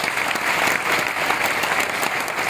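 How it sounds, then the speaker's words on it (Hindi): Steady, dense applause from a large audience at a direct-selling company meeting in India, filling the room evenly and continuing without a break. "जोरदार तालियां आप सभी लोगों के लिए।"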